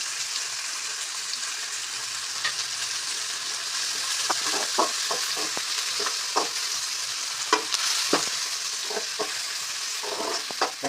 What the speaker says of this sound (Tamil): இப்போ கொஞ்சம் கூட கறிவேப்பிலை கொஞ்சம் சேர்த்துக்கிறோம்